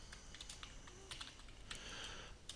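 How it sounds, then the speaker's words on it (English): Keys clatter on a computer keyboard in quick irregular taps as a word is typed, fairly close and alone against a steady hiss. "So I'll type in rabbit."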